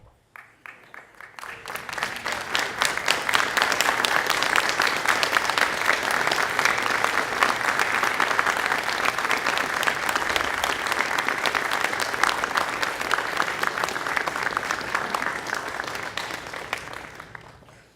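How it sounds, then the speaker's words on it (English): A graduation audience applauds, with dense, sustained clapping from a large crowd that swells quickly, holds steady for many seconds, then fades out. "offer them a round of applause in appreciation of their support"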